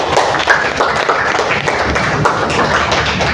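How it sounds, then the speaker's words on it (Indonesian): Classroom audience clapping steadily for a student's poetry reading, a dense, continuous patter of many hands held at an even level throughout. "Oke, beri tepuk tangannya."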